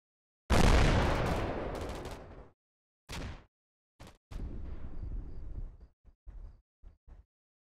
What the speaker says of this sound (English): I'm still firing at that building